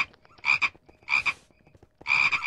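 Frog-like croaks from mobs in modded Minecraft survival come as three loud, close bursts, each a quick rattling cluster, separated by short gaps with no talking.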